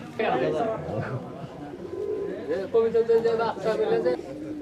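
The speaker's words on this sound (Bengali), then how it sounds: "এটা কি কি কবুতর ভাইজান এটা রেসার" Racer pigeons at a rural village market in Sirajganj, Bangladesh, cooing softly under loud, close conversation between buyers and sellers.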